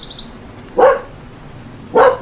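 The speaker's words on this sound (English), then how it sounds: "Dog," Two loud, sharp dog barks spaced about a second apart, close by, with a faint high chirp just before the first bark.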